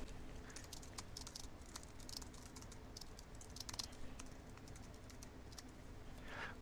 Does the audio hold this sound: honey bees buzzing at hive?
no